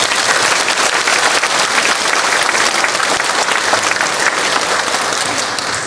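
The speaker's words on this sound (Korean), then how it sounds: "목사님 나오실 때 크게 박수로 환영하겠습니다." Church congregation applauding loudly and steadily to welcome a pastor at a retirement and installation service at Jeonju Dongshin Church, dense clapping filling the room throughout without pause.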